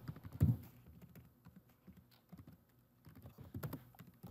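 A computer keyboard clicks with soft, irregular typing taps, quiet and close, with one louder knock near the start and no voices.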